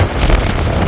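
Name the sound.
wind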